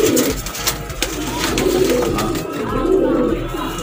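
Pigeons coo on a rooftop loft in Sialkot, soft, low repeated calls close by beneath someone talking.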